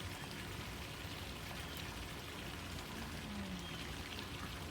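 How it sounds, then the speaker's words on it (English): A poolside waterfall pours in a steady, even rush of falling water. The sound is continuous and moderately quiet, with no voices over it. "I gave you the poolside view with the waterfall effect"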